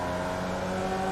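Formula Vee race cars in the iRacing video game bunching into a tight corner at Oran Park, a dense, steady buzz of several engines droning together without a break.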